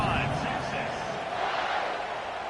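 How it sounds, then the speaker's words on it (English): A high school football stadium crowd cheers steadily after a scoring drive, a dense, continuous roar from many voices that holds at a constant level for the whole stretch. "this crowd is feeling themselves after that last drive"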